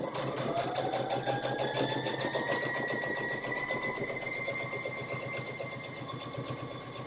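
A sewing machine stitches a fabric face mask, its needle chattering in a fast, even mechanical rhythm close by, with a whining motor tone that rises and then holds steady, and no talking.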